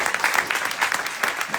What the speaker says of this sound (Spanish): Pues un aplauso, Antonio.